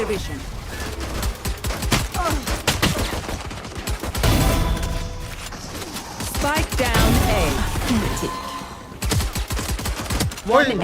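Rapid bursts of automatic gunfire ring out in a Valorant match on the Breeze map, with clustered shots and brief pauses. Players talk excitedly over the shooting.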